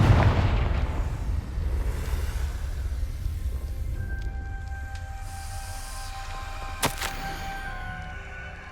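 A Confringo fire spell explodes in Hogwarts Legacy with a deep booming blast, followed by a long rumbling decay with crackling debris and a sharp burst near the end.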